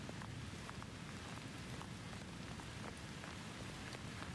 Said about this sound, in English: Let the rhythm of the rain on the rooftop become the only sound.